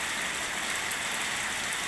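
Steady, even hiss of rain falling, a continuous dense patter with no voices, moderately quiet.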